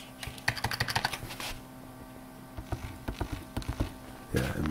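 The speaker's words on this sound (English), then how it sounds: "Let me try that on my keyboard." Fingers type on a computer keyboard, a fast close burst of crisp key clicks, a pause, then another run of taps and a final cluster, with no talk over them.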